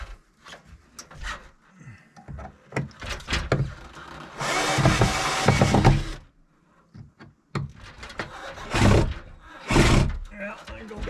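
A power drill fitted with a brand-new bit drives shallow-headed screws in two loud whirring bursts, the first lasting about two seconds and the second shorter. Someone speaks in the gaps between them.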